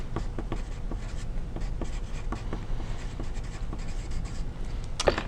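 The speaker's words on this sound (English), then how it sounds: "you're first going to write your first and last name" Pencil lead, a soft 6B sketching pencil, scratching across drawing paper while a first and last name is written, a steady run of short close strokes and taps with no talking.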